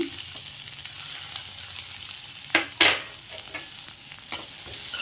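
Green chillies and onions fry in hot oil for a sweet potato curry, giving a steady close sizzle with a few sharp scraping stirs and no talking.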